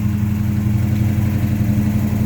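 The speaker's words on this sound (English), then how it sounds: "There's a little bit of an exhaust leak, a tiny bit up there on that manifold." A 1970 Pontiac Lemans with a Pontiac 400 engine idles steadily with a deep, even rumble and a faint ticking from a slight exhaust manifold leak, heard up close with no talking.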